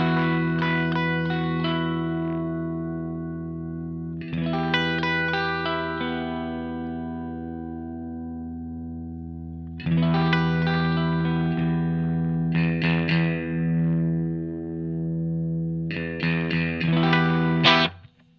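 Clean electric guitar played through a Mad Professor Forest Green Compressor pedal: ringing chords strummed in several separate bursts, each left to sustain smoothly and evenly, loud and close with no voices.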